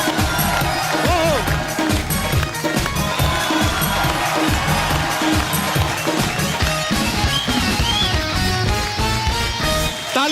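A studio audience on The Kapil Sharma Show cheers and claps to welcome the famous comic poet Arun Jaimini, a loud, steady crowd roar mixed with brassy band music throughout.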